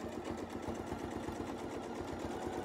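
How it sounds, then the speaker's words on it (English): A sewing machine stitches a Christmas quilt block with a quiet, steady, fast chatter of regular needle strokes, heard alone and close. "At this point, I'm going to sew back down to the bottom."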